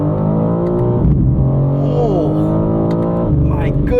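A 2022 BMW M4 Competition xDrive with a ZF 8-speed torque-converter automatic accelerates hard, its loud engine drone snapping down in pitch at two abrupt gear changes.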